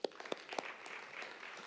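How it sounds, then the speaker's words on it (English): A conference audience at a travel industry event applauds to welcome a speaker on stage. A few sharp, separate claps come first, then settle into soft, continuous clapping that stays fairly faint throughout. "Please welcome Chris with a round of applause."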